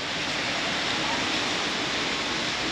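Steady rushing water flows continuously through a swimming resort, a dense, even hiss like a stream or channel pouring nearby.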